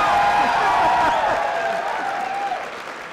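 An audience claps and cheers at a Brandon Sanderson Oathbringer book release party; loud, close applause with some whoops and a ringing tone, gradually tapering off over a few seconds.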